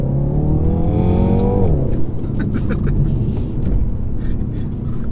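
A 2020 BMW X2 M35i engine revs up through a gear then drops as it shifts, settling into a steady rumble while driving, with someone talking over it.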